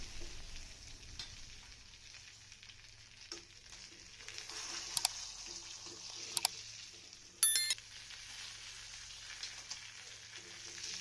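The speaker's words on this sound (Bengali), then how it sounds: "দেখুন আমাদের মাছগুলো কত সুন্দর ভাজা হয়ে গেছে।" Fried pangas fish gives off a soft, faint sizzle of hot oil, steady in the background and broken by a few brief clinks and a short rattling burst.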